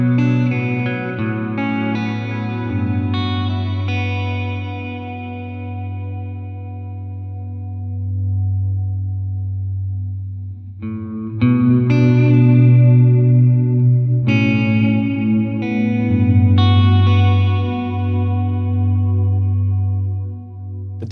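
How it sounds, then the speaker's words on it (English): Sustained electric guitar chords ring out through an EarthQuaker Devices Dispatch Master delay and reverb pedal, with a thick, washy reverb tail that lingers and blends between strums, played alone with no voices. "So as you increase this control, you're getting a much thicker and fuller sounding reverb."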